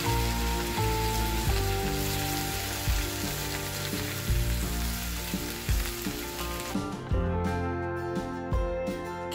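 Onion paste sizzles and fries loudly in hot oil with whole spices, a dense, continuous crackle close up, with brief stirring knocks and the sizzle settling slightly near the end.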